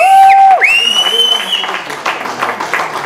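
An audience at an album launch party applauds a volunteer named Raymond, the clapping building as a steady crowd wash after a loud, sustained tone fades at the start, with voices mixed in.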